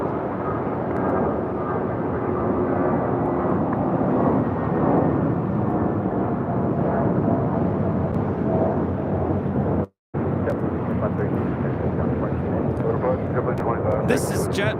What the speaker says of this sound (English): This is JetBlue 2532 taking off to Salt Lake City on an A320.